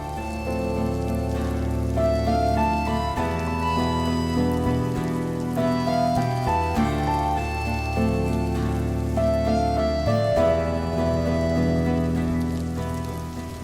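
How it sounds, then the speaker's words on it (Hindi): Heavy rain pours down outdoors as a steady, dense wash, partly covered by loud, continuous background music. "बाहर बारिश इतनी तेज हो रही है"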